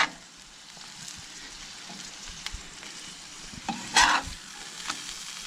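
Steady sizzling of burger patties and onions frying on a hot griddle, with a few scraping clicks of a spatula and one brief louder scrape.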